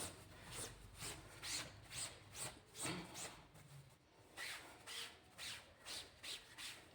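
A muslin cloth rubs over an oil-stained garment dusted with powder, giving a soft, quiet run of regular scrubbing strokes, roughly a dozen back-and-forth swipes with a brief pause in the middle.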